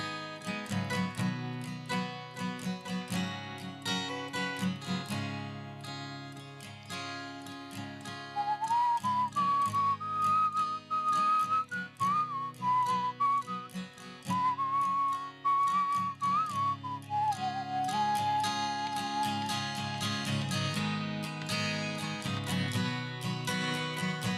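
A person whistles a wavering tune over a steady musical backing on a radio broadcast, the melody bright and sustained through the middle stretch.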